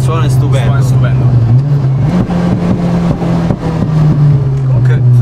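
A modified Fiat Uno Turbo's engine drones loudly and steadily from inside the car while driving, with slight rises in pitch, as people talk over it.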